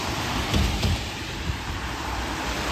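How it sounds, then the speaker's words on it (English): Rain falls on a city street in a steady, close broadband hiss, with a few brief louder splashes or gusts early on and no talking. "It's raining still, so I have my umbrella with me, of course."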